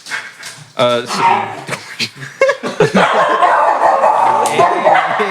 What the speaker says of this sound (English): I apologize for the dogs. I have dogs.